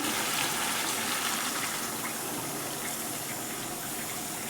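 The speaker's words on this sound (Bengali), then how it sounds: "এখানে আমি বাকি গরম জলটা ঢেলেই দিচ্ছি" Hot water pours steadily into a cooking pot of banana-flower dhoka curry, a continuous close gushing splash holding even throughout, ending with a small knock.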